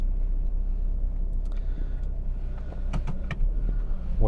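A Saab 9-5 on the road gives a steady low rumble of engine and road noise, with a few faint clicks and light rattles from inside the cabin; no voices.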